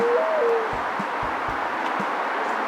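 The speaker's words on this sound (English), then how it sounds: "I love the sound of the birds. I can hear the birds cooing." Soft, low cooing from a dove or pigeon repeats at a slow, uneven pace over a steady outdoor hiss near traffic, with a brief whistle-like tone at the start.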